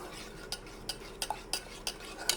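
Semolina with palm fruit and milk is stirred in a pot, a spoon scraping the sides in a steady rhythm of sharp clicks roughly every third of a second, close and fairly quiet.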